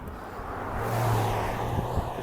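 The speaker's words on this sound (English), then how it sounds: "You can hear cars going by." Steady low roar of cars passing on California's Highway 1, heard from a bicycle on the road shoulder; one vehicle swells and fades through the middle, with faint rumble continuing after.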